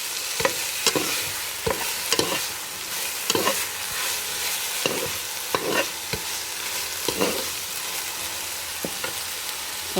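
Kashi halwa being stirred in a pan after cardamom powder goes in, with repeated scraping strokes of a spoon over a soft sizzle, heard close up with no talk.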